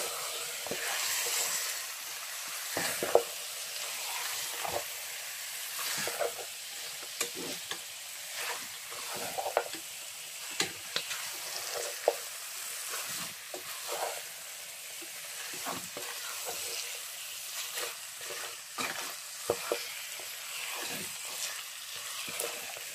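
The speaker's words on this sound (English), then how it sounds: "So now I'm going to add my meat that I boiled. I'm going to add it. I'm going to mix it together." Boiled meat stirred into efo elegusi in a pot: a steady, soft sizzle with irregular scraping stir strokes throughout, fairly quiet and close, with no talking.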